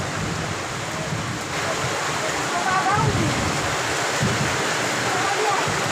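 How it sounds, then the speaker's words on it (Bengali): Heavy rain pours in a dense, unbroken roar, steady and close, with faint voices briefly under it. "প্রচুর পরিমাণ বৃষ্টি হচ্ছে"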